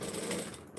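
A sewing machine back stitching runs in a short, quiet burst of rapid mechanical chatter that fades slightly toward the end, with no voices.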